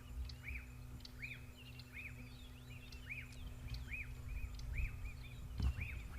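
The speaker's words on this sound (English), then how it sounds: "So that is the black-backed puffback." A black-backed puffback repeats a short rising-falling whistled call at a steady rhythm, fairly faint, over a low background hum and soft ambient noise, on an African safari drive.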